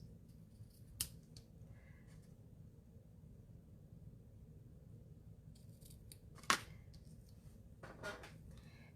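Scissors trim ribbon for a handmade fold card, giving a few sharp, close snips with quiet pauses between them and no talk.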